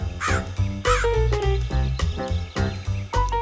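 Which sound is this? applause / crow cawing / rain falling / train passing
crow cawing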